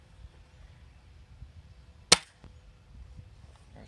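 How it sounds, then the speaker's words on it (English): One shot from a Gamo Recon Whisper G2 pellet gun, a single sharp crack midway through a quiet stretch with faint background hum. "I'm going to do 1 shot in each gun. Okay, the first one will be the Gamo Recon Whisper G2."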